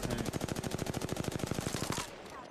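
Rapid automatic gunfire in the video game Apex Legends, a fast steady burst of about two dozen close, punchy shots that stops abruptly, leaving a short fading tail.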